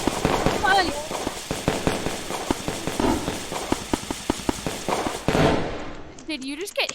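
Firecrackers and fireworks go off close by in a rapid, irregular string of sharp cracks and pops, with people shouting and talking throughout.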